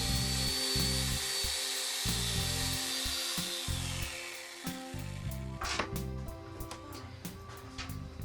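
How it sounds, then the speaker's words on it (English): An electric chainsaw trims and levels the sides of straw bale walls and bullnoses the corners around the windows. Its motor whines in choppy bursts, cutting in and out, then settles into a rougher, uneven buzz. "An electric chainsaw can be used to bullnose corners around the windows and also to level out the sides of the straw bale walls"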